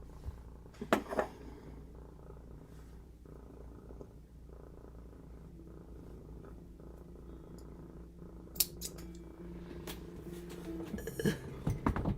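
A cat purring steadily and fairly loudly up close, a continuous low rumble with a few brief rustles and handling noises.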